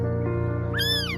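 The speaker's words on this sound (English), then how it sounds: "heard a tiny kitten crying for help" A tiny kitten cries out with a single high, thin meow that bends upward and falls away, heard over a steady low hum.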